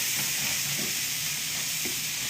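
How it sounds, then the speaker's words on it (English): Broccoli and fried rice with Spam sizzle steadily in a hot pan as they are stirred, a constant bright hiss with a few soft scraping stirs rising briefly underneath. "And we're gonna give it a good stir."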